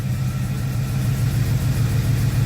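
An Oldsmobile 455 V8 idles steadily and close by, its low, even rumble unbroken throughout, with no voices.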